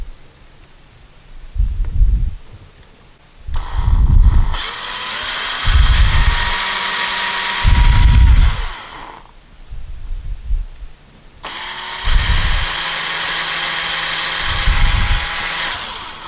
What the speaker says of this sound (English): we're going to pre-drill the holes first